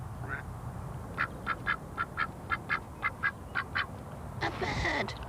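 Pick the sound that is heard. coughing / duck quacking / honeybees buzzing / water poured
duck quacking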